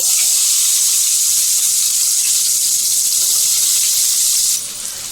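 Onions dropped into hot oil with cumin and fenugreek for an egg and drumstick curry hiss in a loud, steady, close sizzle that holds, then eases suddenly near the end.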